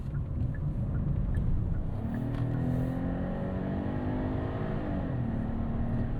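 A 2026 Hyundai Palisade V6 SUV corners on a canyon road, its engine note a steady, moderately loud hum with rising tones and road noise, no voices.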